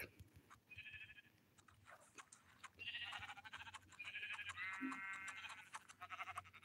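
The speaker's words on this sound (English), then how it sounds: "Ooh, a sheep." Sheep bleat repeatedly in a video game at moderate volume, several wavering calls spread across the clip over quiet background noise.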